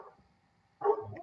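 A dog gives a single short bark indoors, close but fairly quiet, after a near-silent pause.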